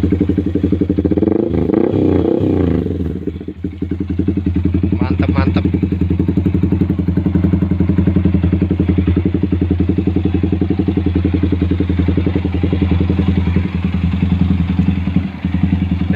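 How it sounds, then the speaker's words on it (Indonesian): Proliner TR1 aftermarket exhaust on a Yamaha Vixion R motorcycle, loud and close, with a steady rumbling idle, a brief rev blip early on and a continuous throbbing engine note. "suaranya kurang lebih kayak gini"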